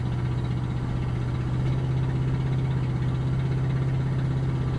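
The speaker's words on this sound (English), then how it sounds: "We're really gonna hear my exhaust now, everyone." A car's exhaust drones steadily at low pitch as it climbs a hill, a constant rumbling hum with a strong low tone that holds throughout without change.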